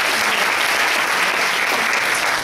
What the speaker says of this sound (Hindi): एक जोरदार तालियां होनी चाहिए उनके लिए।